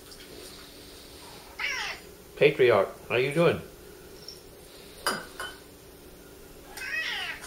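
A cat meows several times at an outdoor farmers market, with drawn-out cries close by and people talking between and over them.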